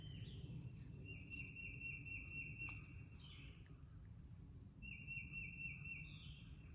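Birds call faintly at Boone's Cave Park in Lexington, North Carolina, with a few thin, drawn-out chirps standing above a soft, steady outdoor hiss with insect-like buzzing.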